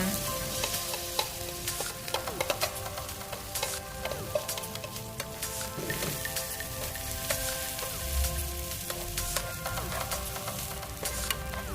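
Steady crackling sizzle of food frying in a hot pan, continuous and close, with occasional louder pops and no voices.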